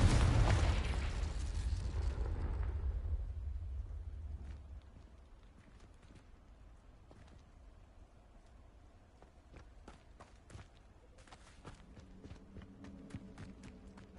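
Explosive Confringo spell from Hogwarts Legacy: a heavy boom that rumbles and fades over several seconds, followed by a quieter stretch of faint clicks and scattered game sounds.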